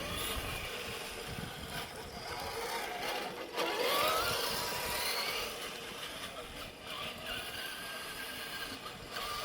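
A Tamiya Toyota Hilux hi-lift scale RC truck runs in two-wheel-drive high across a garden, giving a steady, fairly loud whirring and gear-ratchet drone with outdoor hiss throughout and a brief louder surge partway.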